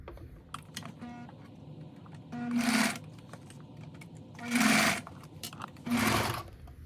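A sewing machine runs in three short bursts while stitching a vinyl bag strap with a quarter-inch seam and no back stitch, each run a few seconds long with quiet mechanical clicks and pauses between them.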